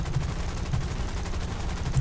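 Rapid machine gun fire from an XF5F SkyRocket fighter plane in the War Thunder combat flight game, a dense, steady burst of low thudding shots running continuously at close range with no talk.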